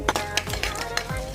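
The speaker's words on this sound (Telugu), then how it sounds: "పోపు వేస్తున్నా పల్లి చట్నీకి" Mustard seeds, dried red chillies and urad dal sizzle and pop in hot oil for a peanut chutney tempering, a brief close crackle with light stirring clicks against the pan.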